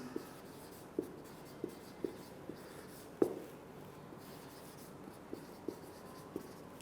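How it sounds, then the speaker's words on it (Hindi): Writing on a board during a chemistry lecture gives quiet, irregular taps and short strokes that recur every second or so, with one sharper knock, over a hushed room. "तो मैं यहां पे लिख देता हूं"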